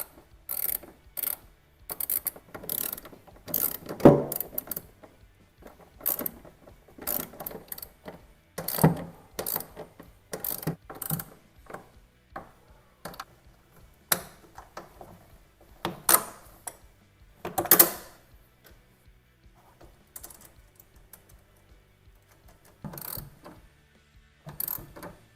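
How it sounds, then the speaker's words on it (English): Metallic clicks and ratcheting bursts from tightening the clamp bolts of a WorkSport SC4 Pro tonneau cover on a 2015 Ford F-150 with an Allen key, washer and lock nut, coming in scattered irregular bursts, close and fairly quiet, with no talking. "we're going to go ahead and bolt these down with the provided hardware"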